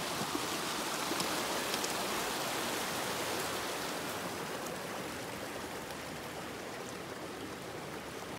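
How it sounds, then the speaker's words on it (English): Steady broadband rush of creek water tumbling along the Rockwall Trail in the Canadian Rockies, a continuous even roar with no talk, filling the whole stretch at constant level. "Taking a quick break at Tumbling Creek. Sure is tumbling."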